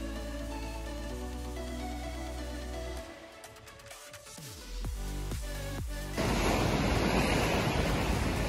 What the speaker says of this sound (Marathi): तर आता आपण वॅगेटर बीचला आलेले आहेत.